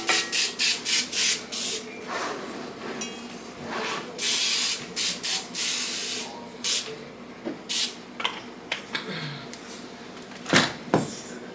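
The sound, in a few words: Pam cooking spray sprayed onto a skillet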